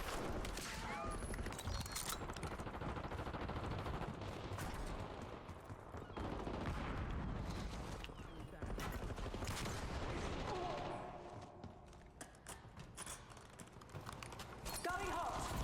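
Rapid SAUG submachine gun fire in a video game, dense bursts of shots crackling through most of the stretch with a brief easing near the end, a voice talking over the action.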